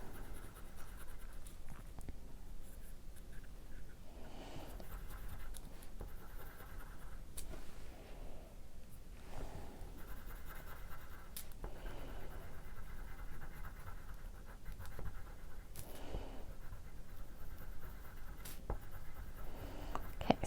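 Confetti crayons scratch and rub across paper in a steady, continuous scribble, with short pauses and strokes changing direction, fairly close and alone, without voices.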